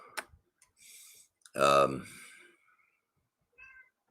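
Pet cat meowing indoors, one clear drawn-out meow in the middle with a fainter short mew near the end, soft clicks around it in an otherwise quiet room.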